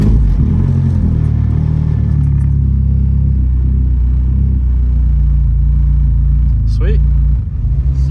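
A BMW E36 with the M42 engine idling after a high, surging idle fault was repaired, a loud, close, steady low rumble that holds even throughout, with cooling fans running.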